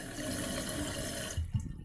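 Water rushing steadily into a toilet tank through the refill valve, a constant broadband hiss that cuts off near the end, leaving a couple of faint soft knocks.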